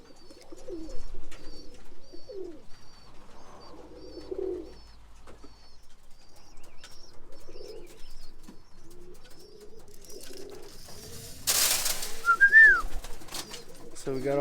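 Pigeons coo in soft, repeated low calls from close by as the flock comes down to land, with a few flutters and a brief burst of wing noise near the end.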